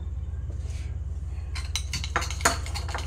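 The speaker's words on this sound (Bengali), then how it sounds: "এটা আমি কড়াইটা সরিয়ে রাখলাম" A metal kadai (wok) being shifted aside on the stove, giving a cluster of clinks and scrapes of cookware over a steady low hum, fairly close and without talk.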